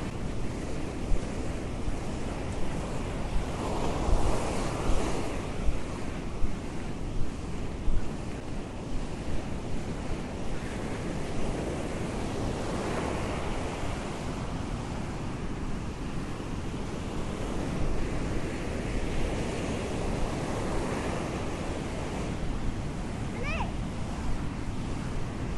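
Surf breaking on the beach at Pantai Kelulut in the morning, with wind buffeting the microphone; a steady loud wash of waves rolls on throughout, swelling in repeated surges.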